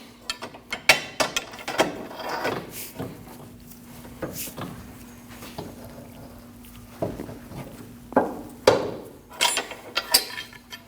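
A ratchet works a 17mm nut on the front axle of a 2003-2008 Subaru Forester, producing close, uneven bursts of ratcheting clicks and metallic knocks separated by brief pauses.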